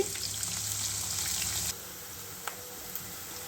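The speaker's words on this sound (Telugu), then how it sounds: "ఉల్లిపాయలు కొంచెం వేగాలండి" Onions frying in hot oil in a pan for an Andhra-style chicken curry give a steady, close sizzle that runs loud and then drops to a quieter crackle partway through, with a couple of faint clinks.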